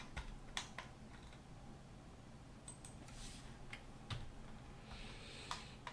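Sparse, faint keystrokes on a computer keyboard as a PL command is entered in CAD software while calculating retaining-wall quantities, a few scattered clicks over a quiet room hiss.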